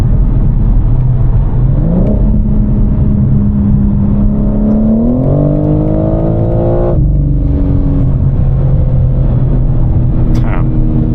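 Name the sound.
BMW M4 car engine driving at night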